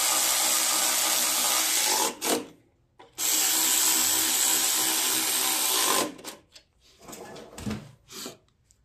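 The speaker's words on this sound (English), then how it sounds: "We're going to tighten this up." A power tool tightens carburetor parts on a Simplicity riding lawn mower in two long, loud, high whirring runs, separated by brief quiet gaps, followed by lighter clicks and handling noises.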